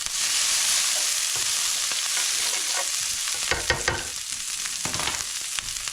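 Cabbage and other vegetables for chicken chow mein stir-frying in oil, with a steady loud sizzle and scattered scraping and clanking of a utensil against the pan, no talking.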